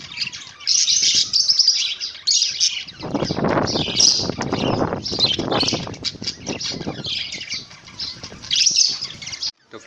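Budgie parrots in breeding cages chirp and tweet continuously and close by, a busy chatter of bright calls with bursts of wing flapping mixed in.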